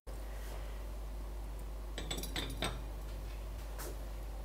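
Metal cooking pot set down onto a stand above a flame, a short cluster of light clinks and scrapes near the middle, over a faint steady hum in a quiet room.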